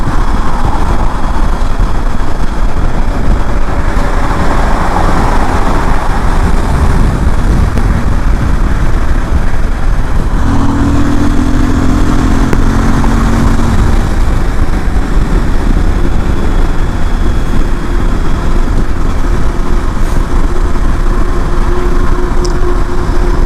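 A 2019 Kawasaki Voyager motorcycle rides along a highway, a continuous loud engine drone mixed with heavy wind rush and road roar, steady for the whole stretch with no talking.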